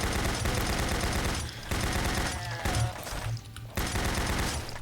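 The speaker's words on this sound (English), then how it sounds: "Not the machine pistol, a machine gun." Sustained machine gun fire in the video game Doom 64, rapid loud bursts of shots broken by a few short pauses, with impacts and enemy noises mixed in between volleys.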